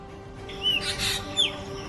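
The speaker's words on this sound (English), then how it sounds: "Pied cuckoos and common hawk cuckoos." Pied cuckoos and common hawk cuckoos calling at a wetland, a few thin high whistled notes rising and sliding, faint to moderate over a steady low background hum.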